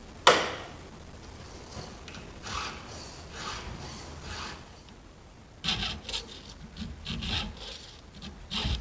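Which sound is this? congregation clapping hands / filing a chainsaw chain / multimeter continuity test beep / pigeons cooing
filing a chainsaw chain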